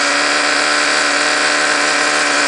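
A Traxxas Jato RC truck's small nitro engine fires up by remote start, giving a loud, buzzy, continuous high-revving drone that stays steady and close throughout the short clip.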